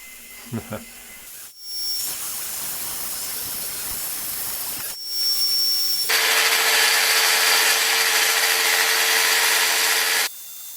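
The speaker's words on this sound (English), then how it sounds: "when I was sawing up these planks here" Steady back-and-forth rasping of a hand saw cutting through wooden planks, close by, with brief pauses between strokes and a louder, harsher stretch near the end.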